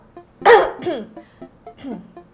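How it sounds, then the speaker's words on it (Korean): A person coughs close by in a short burst of several rough coughs, with a loud first cough followed by smaller throat sounds and pauses, indoors during a makeup product review. "갑자기 기침을 많이 하시네?"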